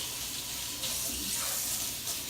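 Tap water gushes steadily from a faucet into a sink for hand washing after preparing fish, a continuous broadband rush close to the mic with no voices.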